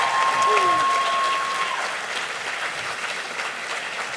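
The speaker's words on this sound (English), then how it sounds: "If you guys could give one more round of applause to Rachel and Jesse." An audience gives a round of applause for performers Rachel and Jesse at a live show; dense, steady clapping fills the clip, strongest at the start and easing slightly, with a faint steady tone briefly audible early on.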